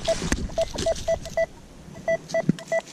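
Metal detector in a large forest giving a run of short, evenly spaced electronic beeps, fairly faint with a slight pause midway and no talk.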